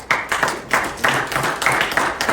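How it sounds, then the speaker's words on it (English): Scattered hand claps from a small audience at a lobby day event, a short uneven patter of a few people clapping nearby, with no talking over it. "so you can give them a round of applause"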